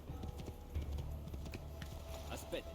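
A horse's hooves clip-clop steadily in Assassin's Creed II, a muffled rhythmic trot under game ambience, with someone talking over it.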